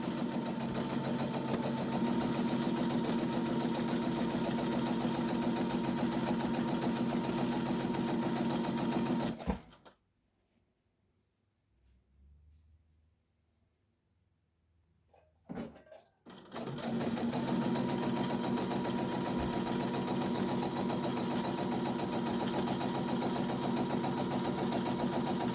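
Sewing machine stitching along the bottom of a fabric tote bag, a loud steady motor hum with rapid needle chatter that stops for about six seconds, with faint handling, then starts again and runs on evenly.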